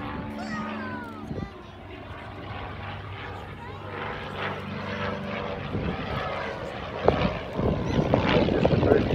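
A propeller aircraft flies a loop with a rollout at an air show at Point Cook RAAF Museum, its engine drone swelling and fading as it passes, with distant crowd noise and a commentator's voice underneath.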